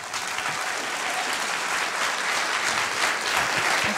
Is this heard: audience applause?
yes